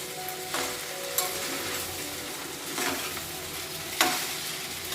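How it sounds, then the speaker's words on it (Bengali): Soaked thick sabudana pearls are stirred in a hot pan, giving a steady soft sizzle broken by a few louder scrapes of the spatula. "দিয়ে দিচ্ছি সাবুটা তার সঙ্গে ভালো করে আমি নেড়ে নিচ্ছি"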